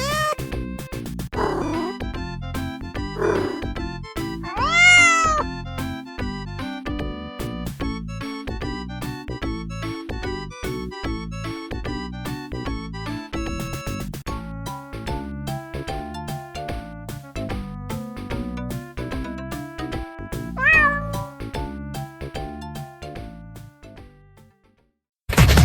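Cats meow repeatedly in a series of separate calls, some rising and drawn out, with other tonal sounds in between. The calls are fairly close and continue for most of the stretch, ending in near silence.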